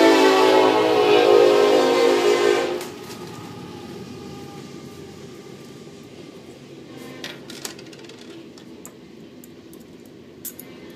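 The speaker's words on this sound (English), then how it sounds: "Here comes the train again." A train rolls past loudly for nearly three seconds with a broad rumble, then drops off abruptly, leaving a quieter background with a few faint clicks and knocks. It is heard indoors while a 3D printer kit is being built.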